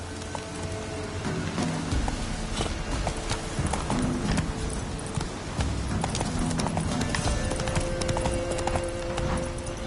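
Hooves of a horse in The Witcher video game clop in a quick, steady galloping rhythm, close and continuous, over a rainy ambient wash.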